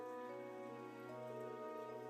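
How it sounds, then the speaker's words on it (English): Light rain falling in Trails of Cold Steel 3, a soft, steady patter held quietly under a sustained tonal music bed, with no voices. "It's not raining that hard."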